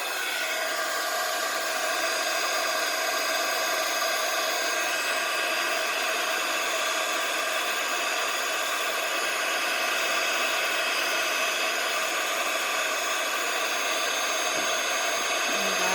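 An embossing heat gun blows hot air to melt embossing powder, a loud, steady whirring fan roar with a constant tonal hum, close and unbroken throughout, with no talking.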